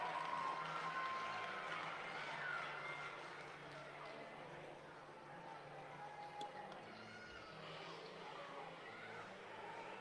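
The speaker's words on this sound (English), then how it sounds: "you can hear a roar from the Chaska fans" Fans of the Chaska squirt hockey team roar from the stands during overtime of an international championship in Fargo, a distant, sustained crowd rumble with faint cheering that swells early and eases slightly later.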